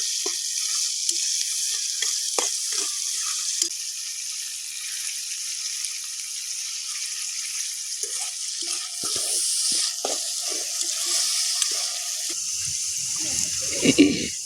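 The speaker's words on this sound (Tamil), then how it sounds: "வெங்காயம் ஓரளவுக்கு வதங்கிடுச்சா?" Onions with salt sauté in a pan for an anchovy fish curry, giving a steady bright sizzle that runs throughout, with occasional stirring clatters and a louder scrape near the end.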